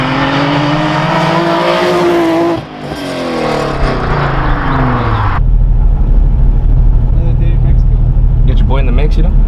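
A Nissan 350Z fitted with long tube headers revs hard and loud, its engine pitch sweeping up and down in raspy pulls before dropping to a deep, rumbling idle that drones on close by.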